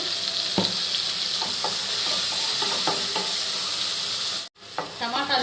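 Tomato softens in a hot pan for ridge gourd curry with a steady close sizzle, punctuated by light clinks and scrapes of stirring, then a brief dropout before the frying hiss resumes.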